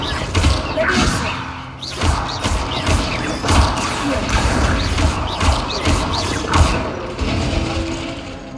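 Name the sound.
Leviosa levitation spell effect in video game Hogwarts Legacy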